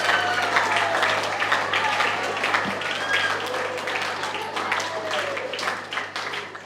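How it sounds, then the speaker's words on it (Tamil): Audience applause at an awards ceremony honouring achievers in a TNPSC model exam, a steady wash of clapping that fades slightly toward the end, with no clear voices over it. "நீங்க இதுக்கு நல்ல கைத்தட்டல் கொடுங்க"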